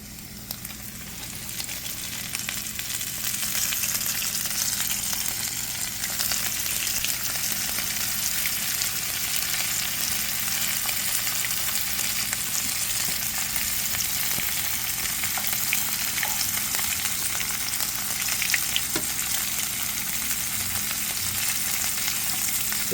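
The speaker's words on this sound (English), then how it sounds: "Sizzling." Walleye fillets fry in hot oil, a continuous, bright crackling sizzle heard up close that stays steady and fairly loud from start to finish.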